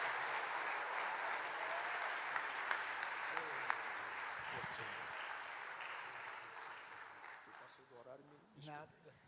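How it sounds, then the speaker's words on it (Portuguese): A church congregation claps loudly during a sermon, a dense crackling ovation that thins out toward the end as voices and cheering emerge over it. "aplauda o Senhor bem forte"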